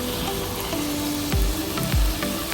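Chicken fries in oil in a pan for a Sri Lankan spicy chicken gravy made without water, sizzling loudly and steadily up close, with a few low thuds and scrapes from stirring.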